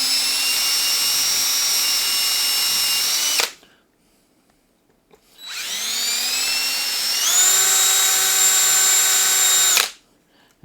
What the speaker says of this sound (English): All I'm doing is just walking the bit over. A little wiggle drilling.